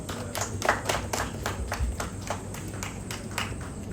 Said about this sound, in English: Please, a round of applause for Dr. Lizzie.